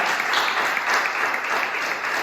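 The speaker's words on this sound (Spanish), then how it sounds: "Denle un aplauso a Jesucristo." Church congregation applauding during a Spanish-language sermon, a dense, steady wash of many hands clapping at once, loud and continuous with no talk over it.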